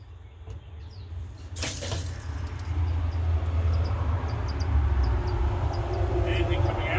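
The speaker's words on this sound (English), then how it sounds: "Water coming on." Water runs from a tap being turned on during a household water leak repair, a steady broadband rush that builds after a brief opening burst and carries on continuously with faint background birdsong.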